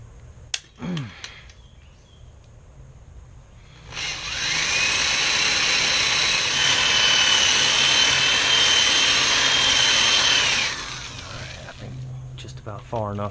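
A power drill bores out the rivets holding the window motor in the door of a 1995 Chevy Silverado, running loud and steady for about seven seconds after a few short clicks and taps, then stopping.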